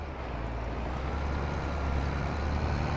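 A struggling tractor engine in Farming Simulator 22, a loud, steady low drone with a constant rumble and no change in pitch, running alone without talk.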